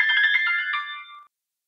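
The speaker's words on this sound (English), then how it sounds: "there goes my phone ringing." A mobile phone rings with a short, bright electronic melody of bell-like tones that lasts about a second and then cuts off to silence.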